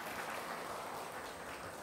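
An audience at a Buddhist lecture on the Lotus Sutra applauds in a dense, even wash of clapping, faint and distant, with no talk over it.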